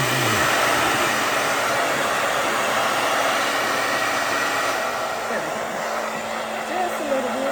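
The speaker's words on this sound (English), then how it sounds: "I am going to blow dry my hair" A hair dryer blows steadily and loudly close by while drying hair during a hot oil treatment on Sisterlocks, a continuous breathy roar with slight shifts in pitch as it moves.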